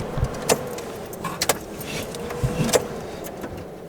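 Inside a twin turbo Chevrolet Malibu, a key turns and the ignition clicks on, giving a few sharp close clicks and a faint key jingle over a low steady background hum.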